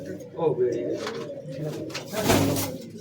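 Pigeons coo repeatedly in a loft in Behala, Kolkata, their soft low calls close and steady while someone talks over them throughout.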